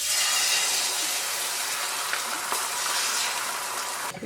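Beans for a spicy desi breakfast bubble and sizzle in a pan, a steady close hiss of boiling liquid with faint pops, running alone without talk.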